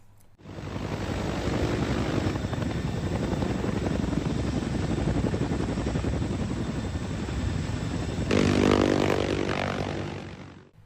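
A military Chinook MH-47G special operations helicopter roars steadily with a heavy, continuous rotor and engine drone that swells louder near the end before cutting off.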